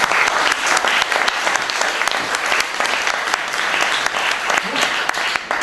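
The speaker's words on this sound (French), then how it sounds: "Madame Christine Orban, que je vous demande d'applaudir." A crowd at a salon gathering applauds the introduction of a guest novelist. The sustained, close-sounding clapping stays dense and even throughout, with a few sharper individual claps standing out.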